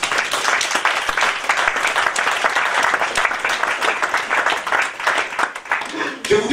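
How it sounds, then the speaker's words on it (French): A church congregation bursts into sustained, dense applause and cheering during a French-language sermon, a loud, even wash of clapping that carries on for several seconds before tapering. "Applaudissons le Seigneur."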